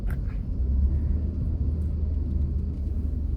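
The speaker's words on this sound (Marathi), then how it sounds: "बघा ट्रॅफिक कसं आहे मुंबईचं" Heavy traffic jammed on a Mumbai street, a steady low engine rumble of many idling and crawling vehicles, continuous and fairly loud with no voices.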